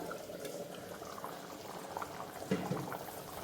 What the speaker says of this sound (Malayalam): ഇനി ഒന്നുകൂടി നമുക്ക് ഇത്തിരി നേരം കൂടി ഒന്ന് മൂടി വെച്ച് തിളപ്പിക്കണം.